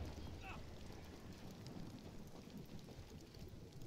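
Rain and a thunderstorm in the video game Marvel's Guardians of the Galaxy, a faint continuous hiss of rain with a low rumbling undertone that stays even throughout.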